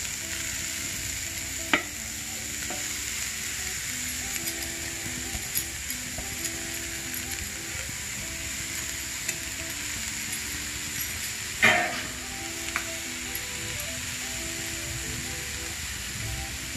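Half a kilogram of grated carrot frying in ghee for carrot halwa gives a steady even sizzle with faint stirring. Two sharper knocks of a spoon or pan stand out, the later one louder.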